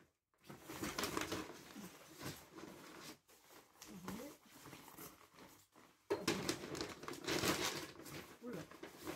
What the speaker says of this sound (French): Donc je déchire son sac.